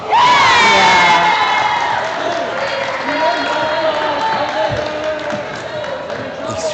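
Loud, close crowd cheering and shouting at a Canadian National Pickleball League match for East Toronto Smash, with high excited voices and whoops filling the hall and holding steady for several seconds.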